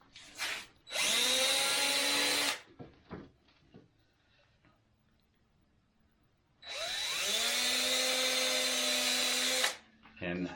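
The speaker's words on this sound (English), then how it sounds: "I'm drilling a little hole to put a finish nail in the corner of each one" Two long bursts of a power drill whining steadily as it drills small holes in wood cabinets, each lasting a couple of seconds, with quiet handling clicks and faint shuffling between them.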